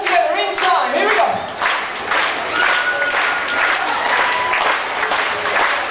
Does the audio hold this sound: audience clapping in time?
yes